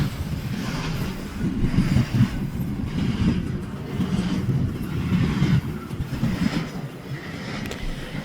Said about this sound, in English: For the very first train back here, we would see a CP, AC44, and a ES44 leading a intermodal train